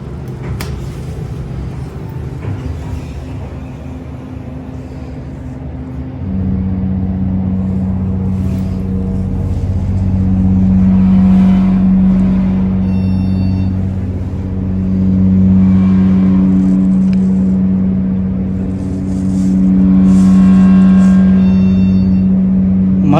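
A MontgomeryKONE hydraulic scenic elevator, slightly low on oil, runs its motor: a loud low rumble starts after several seconds and holds with a steady hum, swelling and easing slightly as the car travels.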